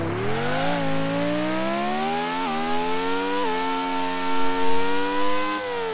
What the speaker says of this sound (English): Oh, the engine is too loud.